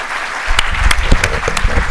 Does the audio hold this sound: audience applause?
yes